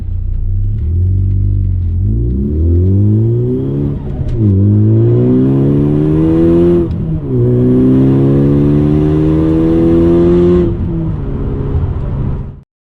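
A Ford Focus ST fitted with an Mfactory limited-slip differential pulls away from about 2,000 RPM with traction control on, its engine note rising loudly and close through three upshifts, each marked by a brief dip before the revs climb again.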